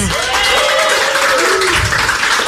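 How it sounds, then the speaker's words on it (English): Applause from a media event audience fills the whole stretch, a steady dense wash of clapping with a faint voice tone running under it. "Round of applause for the audience."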